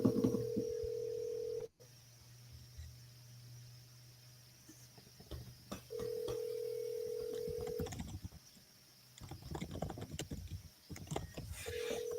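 Steady electronic phone-line tones on an outgoing call to a seller in South Carolina, sounding in repeated long beeps separated by quieter gaps, with faint background noise and a brief burst of activity near the end.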